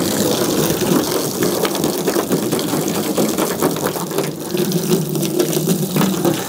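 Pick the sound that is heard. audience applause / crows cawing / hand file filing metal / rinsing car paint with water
rinsing car paint with water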